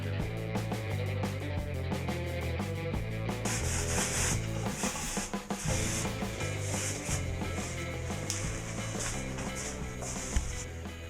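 Oil finish is rubbed by hand into the wooden surface of a mini cajon, a close, steady scrubbing and rubbing with a brisk repetitive rhythm and no talking.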